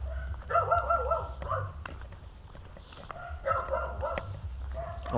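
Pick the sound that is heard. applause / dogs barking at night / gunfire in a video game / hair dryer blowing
dogs barking at night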